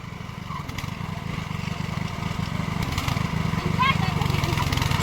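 A 7.8 HP mini tractor weighing 84 kg runs with a steady, rough chugging throb that swells slightly louder toward the end. Voices may be faintly mixed in.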